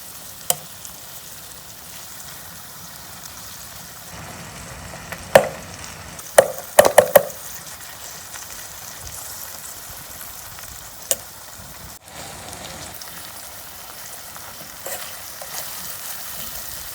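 Green and red chilies roasting in a pan for pickle, a low steady sizzle with a few sharp clinks of a utensil against the pan midway, with no voices.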